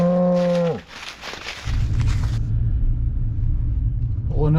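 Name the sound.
cows mooing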